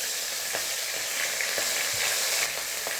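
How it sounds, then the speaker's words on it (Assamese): Fish, a magur catfish, frying in hot oil in a wok, giving a steady close sizzle with a few soft clicks of turning, and no voices. "প্ৰথমতে মই মাছকেইটা এয়া কেৰাহীত দি দিলোঁ।"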